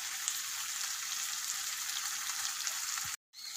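Oil frying in a pan while making anchovy fish pickle, a steady faint hiss of sizzling close by, cut by a brief moment of silence near the end, no talk.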